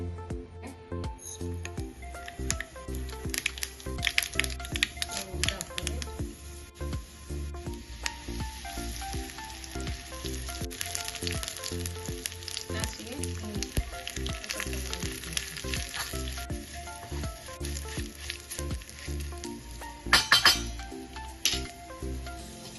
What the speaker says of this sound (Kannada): ಇದಕ್ಕೆ ಒಗ್ಗರಣೆ ಮಾಡ್ಕೊಳ್ಳೋಣ. ಒಗ್ಗರಣೆಗೆ 1 ಟೇಬಲ್ ಸ್ಪೂನ್ ತೆಂಗಿನೆಣ್ಣೆ,